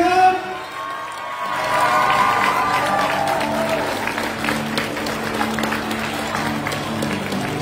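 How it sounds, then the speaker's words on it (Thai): A group at a gathering in Khon Kaen bursts into loud, sustained applause mixed with cheering and shouts, following a brief voice at the start. "ขอเสียงปรบมือดังๆนะครับ"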